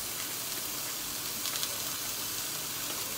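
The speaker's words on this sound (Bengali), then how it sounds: "শুধু এই সবজিগুলো আমি হালকা একটু ভেজে নিচ্ছি, খুব সামান্য, একদম সামান্য একটু বাটার দিয়ে ভেজে নেবো" Vegetables frying lightly in a little butter in a pan, a steady close sizzle and hiss with no speech over it.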